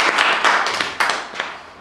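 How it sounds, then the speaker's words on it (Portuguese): A short burst of clapping from a small group of people, a few uneven rounds of applause lasting under two seconds, close and fairly loud with no talking. "E uma salva de palmas."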